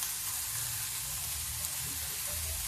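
Sprouted grains and shredded cabbage roast in a hot pan, giving a soft, continuous sizzle and crackle heard close up, with faint stirring and no talk.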